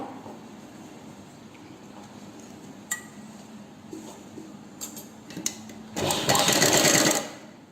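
Sewing machine stitching lehenga top main fabric to its lining, a low steady hum for most of the stretch with a few light clinks, then a loud close burst of fast stitching near the end.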